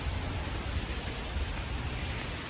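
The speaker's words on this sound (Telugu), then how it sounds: "రెయిన్ పడుతుంటే చూడడానికి చాలా బాగుంటుంది ఇలా" Steady rain falls on an overcast day, a dense, even hiss of drops that stays constant throughout with no voices.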